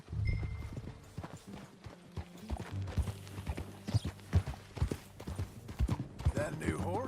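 Horse hooves clip-clop at a riding pace in Red Dead Redemption 2, a fairly close, steady rhythmic clatter with brief whinnies, running under men's conversation.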